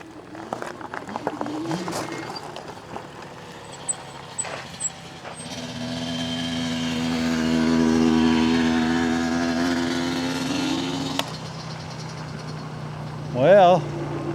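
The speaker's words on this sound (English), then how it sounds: "There's a motorcycle coming." A motorcycle on a rail trail approaches and passes, its engine drone swelling to a peak and then fading. Scattered outdoor noises come before and after.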